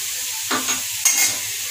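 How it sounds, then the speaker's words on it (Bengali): Potatoes stirred and fried in a pan give two short bursts of scraping and sizzling, a spatula stir followed by a sharper hiss, close and fairly loud over a steady frying background. "আলুটা একটু ভাজা হয়ে গেছে"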